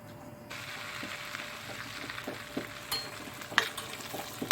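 Oil sizzling in a pan as red pepper goes in, a steady crackling fry with a few sharper pops and stirring clatters toward the end, no talk.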